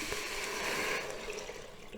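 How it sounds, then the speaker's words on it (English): Three cups of water are poured into an Instant Pot with browned meat, giving a soft, continuous splashing gurgle that fades slightly over two seconds. "then I'm going to throw in my 3 cups of water"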